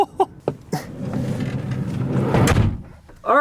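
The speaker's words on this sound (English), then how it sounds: "Obviously, this is not a power slide door." Manual sliding side door of a 1996 Toyota Previa minivan rolls along its track and thuds shut, a loud close sound after a few short clicks and knocks, with a latch click at the end.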